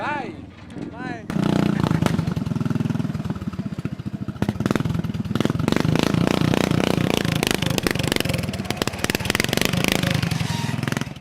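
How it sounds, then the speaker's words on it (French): A lawn tractor engine, a grandfather's gift shown at a local festival, starts up after a short quiet stretch and runs loud and close with a steady rough rumble. People talk briefly at the start. "tu as décidé d'investir ton argent dans un tracteur à pelouse"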